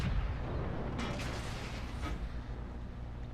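A tank cannon shot from a Comet in the World of Tanks video game lands as a booming blast about one second in, followed by a second thud over a dense, rumbling game background.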